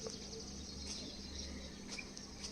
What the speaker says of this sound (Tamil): இந்த மைனா நான் டீ குடிச்சிட்டு இருக்கிற வரைக்கும் அழகாக உட்காந்து சவுண்டு கொடுத்துட்டே இருக்கு